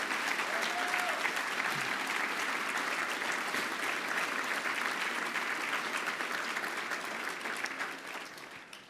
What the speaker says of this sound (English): Let's have another round of applause for SIT Investment